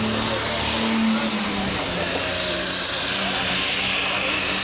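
A pulling tractor's engine roars loudly and steadily throughout a tractor pulling event at the DTTO Seifertshofen 2008 oldies competition, with a strong low drone that holds at full volume.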